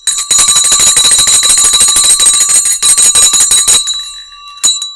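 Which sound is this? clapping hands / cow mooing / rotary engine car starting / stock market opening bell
stock market opening bell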